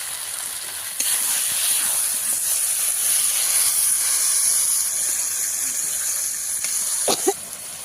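Water poured into a pan of simmering Bengali fish curry made with pomfret (rupchanda) sets off a loud, steady hiss that holds for about six seconds, then eases, with a couple of brief clinks near the end.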